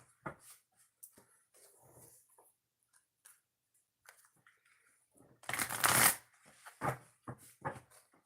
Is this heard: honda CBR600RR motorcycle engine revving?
no